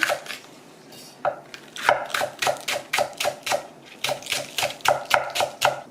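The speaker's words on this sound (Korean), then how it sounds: "파를 썰어 보겠습니다." A knife slices green onion on a cutting board in a brisk, even rhythm of about a dozen crisp, close cuts, with a brief pause partway through.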